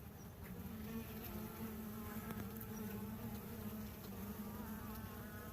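Honey bees buzz steadily at an open beehive, a dense, continuous drone of many insects close by, faint overall and without talk.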